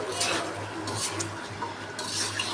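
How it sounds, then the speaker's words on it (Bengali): Meat browning in a frying pan is stirred and turned, giving a steady scraping, clattering bustle of utensil against pan with a faint sizzle underneath, close by and without talk. "এই যে মাংসটা একটু কষিয়ে নিচ্ছি তো মাংসটার কালার কিন্তু বন্ধুরা বেশ ভালোই এসেছে দেখো আমি নাড়াচাড়া করে নিচ্ছি মাংসটা"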